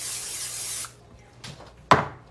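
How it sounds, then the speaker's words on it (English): Cooking spray from a nearly empty can hisses into a casserole dish in a steady burst for under a second, then short faint spurts and a sharp knock or clatter follow. "I'm going to spray my casserole dish here."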